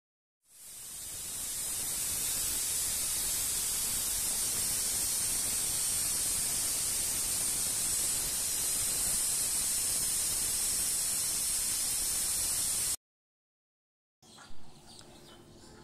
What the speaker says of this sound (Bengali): মাংসটা আমি এখন কষাচ্ছি, আর কষানো প্রায় শেষের দিকে, এখন বেশি করে পেঁয়াজ দিয়ে দিলাম